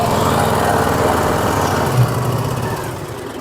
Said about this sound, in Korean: 이제 엔진 RPM을 중간 정도까지 올려서 이런 식으로